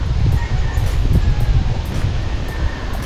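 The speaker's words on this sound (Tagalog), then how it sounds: "ang lakas ng hangin" Strong wind buffets the microphone with a loud, continuous low rumble and gusting roar.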